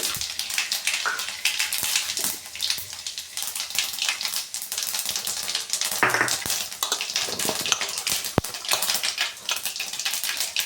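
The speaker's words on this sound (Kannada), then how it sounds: "ಸಾಸಿವೆ ಚಿಟಪಟ ಅಂತ ಕಿಡಿಬೇಕು" Mustard seeds splutter and pop in hot oil for tempering, a loud, busy crackle of rapid sharp snaps over a steady sizzle, with a couple of sharper clicks, and no voices.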